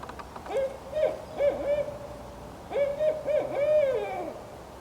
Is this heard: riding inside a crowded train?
no